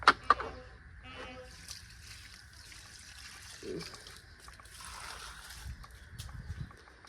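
Water poured from a container onto potted plants, including a newly planted flower, trickles and splashes softly at close range over a low background hum, with faint irregular dribbles throughout.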